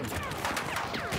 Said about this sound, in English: Itt egy tank lő.